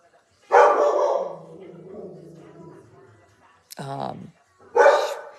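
A dog gives a loud bark, then a softer whimpering stretch, followed by two more sharp barks close by, with a person talking in between.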